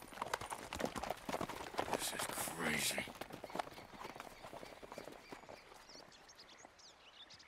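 Horse hooves clip-clop rapidly and steadily in the video game Red Dead Redemption 2, close and fairly loud, while someone speaks briefly over them early on before the hoofbeats thin out.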